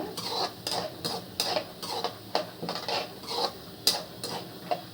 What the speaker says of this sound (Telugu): మినప్పప్పు శనగపప్పు ఆవాలు జీలకర్ర ఇవి కూడా వేసుకొని దోరగా వేయించుకోండి